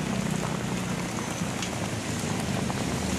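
Continuous heavy rain pours steadily on surfaces in a hilly area at risk of landslides, a dense, even hiss with no pauses and no voices.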